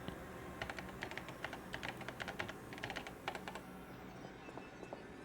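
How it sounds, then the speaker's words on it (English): Rapid keystrokes clatter on a computer keyboard in the Paper Mario: The Thousand-Year Door game, a steady flurry of light clicks that thins out toward the end over faint background hiss. "Use the keyboard in front of you."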